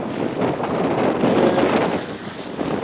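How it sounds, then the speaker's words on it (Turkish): Strong wind at the seaside during surfcasting on a cold night, roaring continuously and buffeting the microphone with a dense, loud, gusty rush, no talk. "şu anda aşırı bir rüzgar var yine aynı şekilde"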